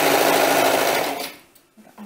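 A sewing machine stitches a rolled hem on a doll dress, a loud dense whirring run for just over a second that cuts off abruptly, followed by a couple of faint soft knocks.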